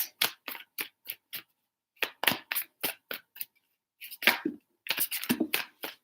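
A deck of tarot cards is shuffled in a series of crisp, rapid riffles and slaps, close and clear, in distinct bursts with brief pauses between them.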